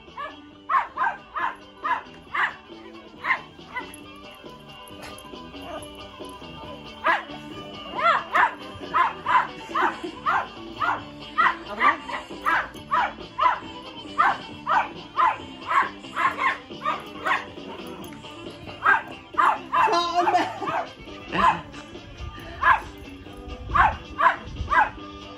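A dog barks repeatedly indoors, sharp yips coming in quick runs with brief gaps, fairly close and steady throughout.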